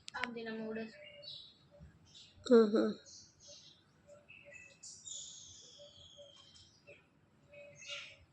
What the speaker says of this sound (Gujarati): પક્ષીઓનો કલરવ અવાજ મિત્રો તમે સાંભળી રહ્યા છો